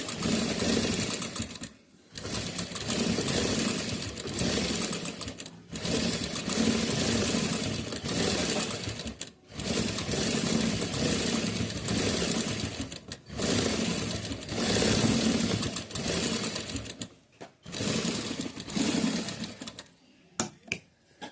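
A household sewing machine runs in long continuous bursts with brief pauses while stitching an overlock-style edge on fabric, loud and close, with no talking.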